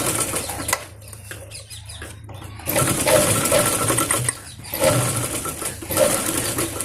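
A domestic sewing machine stitches the elastic casing of a young girl's palazzo pant in a few short bursts of running, separated by brief pauses, fairly close and without talk.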